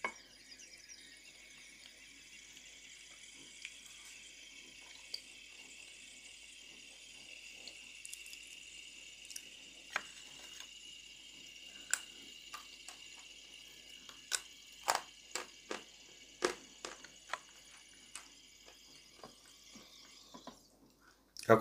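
A piece of wet chalk hisses with a faint, steady fizz, joined in the second half by sharp, scattered pops and crackles that grow more frequent, heard close in a quiet space with no talking.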